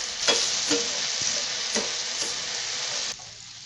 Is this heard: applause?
no